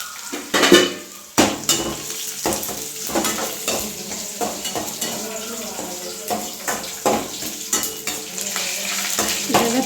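Cumin seeds, curry leaves and Byadgi chillies frying in a pan for a doddapatre buttermilk curry, with a steady sizzle under repeated clattering spatula scrapes and knocks against the pan.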